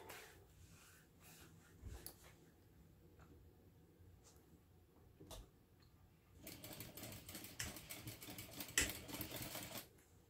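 A sewing machine stitches a zipper seam with a half-inch seam allowance, starting with a few short bursts and then a steady, close rattle of rapid stitching through the final seconds.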